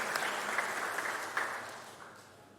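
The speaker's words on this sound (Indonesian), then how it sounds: "Mari kita berikan ucapan selamat dengan tepuk tangan bersama." A church congregation at a Sunday service claps together in congratulation for a birthday, a soft, even wash of applause that gradually tapers off.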